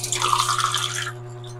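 A glass of water poured into a cooking pot for chicken and tomato stew, a short splashing gush lasting about a second over a steady low kitchen hum.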